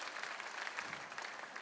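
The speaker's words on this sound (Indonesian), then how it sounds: "tepuk tangan dulu untuk Tuhan." Congregation applauding during a church worship service: a dense, steady patter of many hands clapping together for the whole stretch, fairly close, with no talking.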